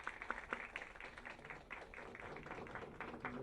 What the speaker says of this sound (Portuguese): Podemos aplaudir, sim, por favor.